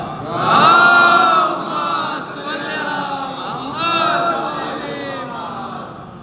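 A crowd at an Eid-e-Zahra gathering in Derkhi shouts back in unison in answer to a Nara-e-Takbeer chant, a loud, close, sustained massed cry that swells twice and then trails off.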